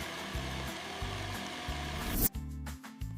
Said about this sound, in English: Make a tasty smoothie in the blender.